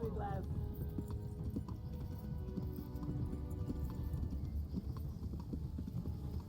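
A horse's hooves clip-clop steadily at a brisk gait in the video game Kingdom Come Deliverance, a continuous rhythmic patter under a low ambient bed, with a faint voice briefly at the start.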